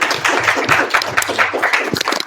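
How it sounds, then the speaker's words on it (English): Audience applause at a conference on blockchain and AI, a dense, steady burst of many hands clapping close and loud for about two seconds. "Audience, can we have a round of applause for them?"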